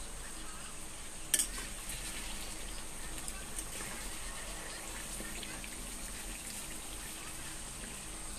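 Raw mango pickle being stirred in a pan just after the lid comes off, giving a steady low sizzle and soft scraping that continue evenly throughout with no talking.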